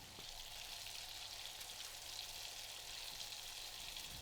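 Pieces of dried Norwegian cod sizzle in foaming butter and a little oil in a pan, giving a steady, close crackling hiss that holds even throughout without any speech.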